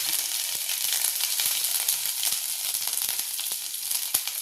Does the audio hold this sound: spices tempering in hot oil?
yes